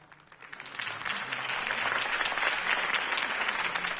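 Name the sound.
crowd applauding a campaign speech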